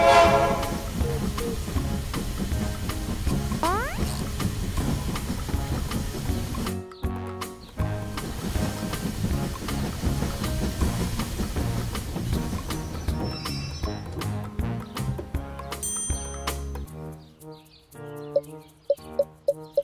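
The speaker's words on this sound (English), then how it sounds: "Mr. Train is almost here." A cartoon train pulls in with a horn blast and rolling clatter amid a busy, loud musical score, followed by lighter chimes and bell-like tones as it settles near the platform.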